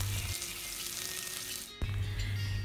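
Chopped onions, two medium ones, sautéing in oil inside a pressure cooker give a steady broadband sizzle with a brief dip and a soft knock near the end, continuous and close with no talking.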